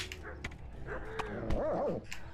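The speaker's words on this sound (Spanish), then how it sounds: "¿De qué coño han salido los perros?" Dogs in the medieval game Kingdom Come: Deliverance bark and yelp in short, close bursts, with whining, pitch-bending cries near the end and faint background sounds behind them.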